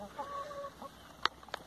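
Hens at a poultry breeding yard, with soft clucks and a few sharp, close squawks over a quiet yard background.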